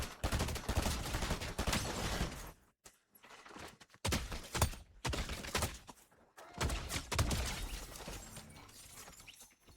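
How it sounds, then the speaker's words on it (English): Fortnite gunfire in long, dense volleys broken by two short lulls, loud and close, with no talk over it. "Somebody else shooting at me."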